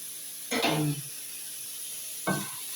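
Sliced pastil being stirred into a pan for empanada filling, two short bursts of scraping and sizzling, the first longer and the second brief, over a faint steady hiss.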